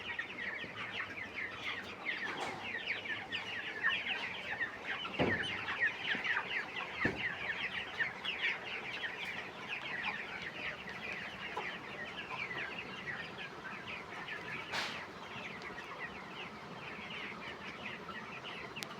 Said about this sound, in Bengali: চকচকা মুরগি